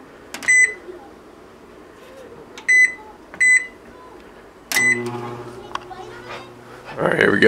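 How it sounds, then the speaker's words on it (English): A microwave oven running on an off-grid solar backup system beeps several times as buttons are pressed, then starts up with a steady low hum; a person speaks near the end. "Now, if I turn my microwave on,"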